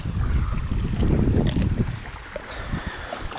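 Wind gusting outdoors by the water while catfish fishing, roaring and buffeting against the microphone at first, then easing to a softer rush with faint scattered knocks.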